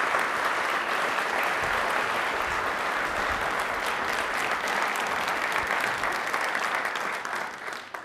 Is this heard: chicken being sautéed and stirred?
no